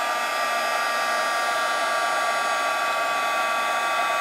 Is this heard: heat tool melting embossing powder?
yes